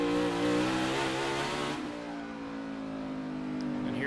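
A NASCAR Cup car at the Daytona road course, heard onboard Kurt Busch's machine, screams under acceleration with rising harmonics, then drops off sharply as he lifts and the engine settles into a lower, steadier note.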